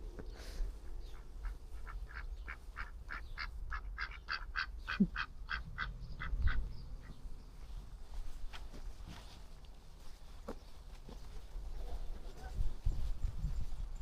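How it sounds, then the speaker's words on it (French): Ducks quack in a rapid run of calls that fades into scattered softer quacks, fairly distant, over faint outdoor rumble, in the Netherlands. "Le coin des canards, c'est là."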